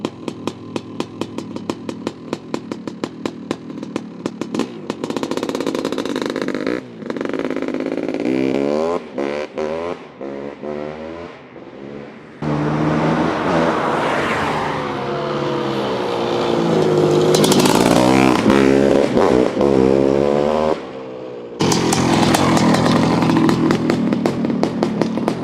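A street-legal Honda CR500AFX motorcycle engine runs loud and close, popping at idle, then revving hard in repeated rising and falling bursts with short pauses between them.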